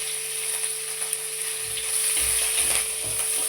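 Green chillies and whole cumin frying in oil for an Ekadashi sago dish, a close steady sizzle with low rumbling stirs and pan movements in the second half; no speech.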